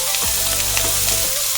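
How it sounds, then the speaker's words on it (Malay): Ingredients stir-fried in oil in a pan, the oil reused from frying chicken; a steady close sizzle and crackle runs throughout with a low hum beneath and no talking. "kita tumiskan dia. Sampai keluar keharuman dia."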